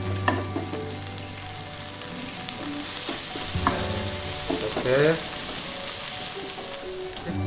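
Steamed chicken reheating in a hot pan, crackling sizzle with bursts of stirring scrapes under brief talk.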